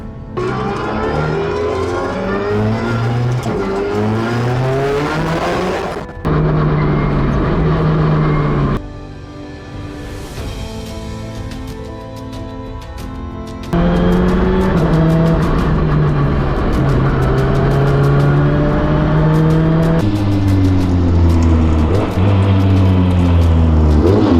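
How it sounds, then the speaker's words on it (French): An Alpine rally car engine revs hard through the gears with turbo bangs, its pitch climbing and dropping in repeated sweeps, loud and close, with a brief rougher lull midway before pulling again. "là, c'est le bang, donc ce qui passe au niveau du turbo"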